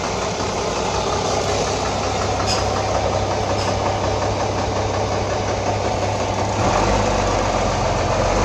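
Bus engine idling at Probolinggo bus terminal, a loud, close, steady diesel rumble with a knocking vibration throughout and a slight shift in tone near the end.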